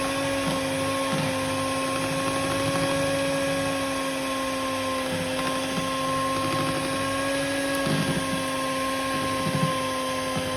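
An electric mixer whips egg whites into meringue, giving a steady, loud motor whine with a constant pitch and faint beater rattle that runs unbroken throughout, with no talking.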